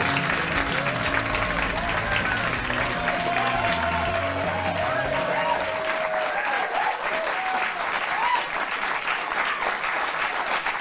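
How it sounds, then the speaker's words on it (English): Studio audience applause at a late-night television talk show, steady clapping throughout with music and voices over it during the first half before the clapping continues alone. "Enough of your pathetic applause"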